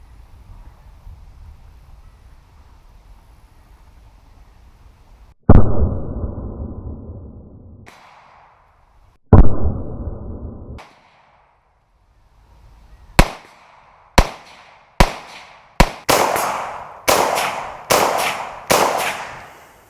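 A Ruger Mini-14 rifle fires during a dust test, booming shots at first spaced seconds apart, then a quicker string of about eight loud, close cracks with ringing echoes.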